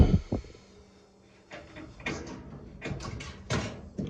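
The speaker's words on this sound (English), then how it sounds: "Remove your door springs on each side." Metal door springs being unhooked from each side of a Whirlpool / Kenmore 90 series dryer door during a repair, heard as a few sharp clanks near the start, then irregular scraping and clunking handling noises up close.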